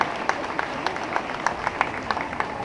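Hall audience applauding kimono and obi fashion show models at the Montpellier international fair, a steady wash of scattered clapping with sharper individual claps standing out, moderately loud and continuous with faint crowd murmur beneath.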